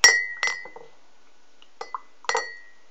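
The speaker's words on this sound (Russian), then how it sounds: "Так, мешаем ложкой." A metal spoon stirs a homemade drink in a glass, making several sharp, ringing clinks in two uneven bursts with quiet gaps between them, close by and heard alone.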